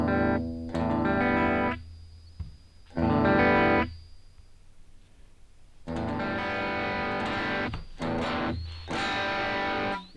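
Distorted electric guitar played through a NUX Mighty Plug Pro amp modeler set to an American-style high-gain tone, loud chords and riffs in several bursts separated by short silences, no voice.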